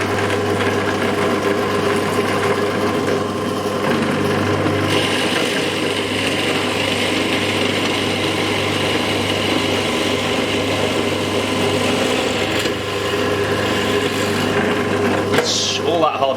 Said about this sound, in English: Helps if I turn the pillar drill on.